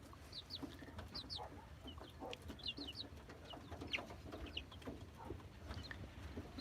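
Rescued baby chicks peep and cluck softly while eating, with scattered short chirps over a faint low background murmur.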